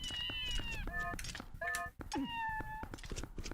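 Several cartoonish cat meows from a Twilight Princess game character, a string of rising and falling calls one after another, loud and close, with a brief thud in the middle.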